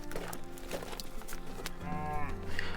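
Several cows moo in a cattle shed, their low, drawn-out calls overlapping one another at close range amid a busy background of livestock noise.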